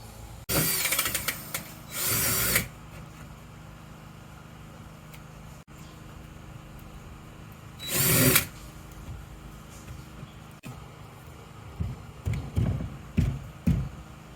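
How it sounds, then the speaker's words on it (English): A small power drill with little bits bores holes in a mining shed, running in short bursts of high whine, then a pause and another burst, with a few rough handling knocks at the end. "degrade the integrity of the hole with these little drill bits"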